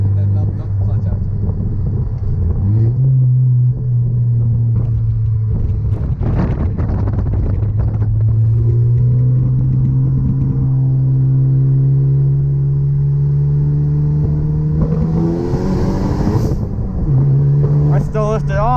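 A big-turbo Ford Focus ST accelerates hard after the clutch is dumped, its engine drone climbing steadily in pitch, dropping and climbing again, loud and close inside the cabin with wind noise and people talking over it.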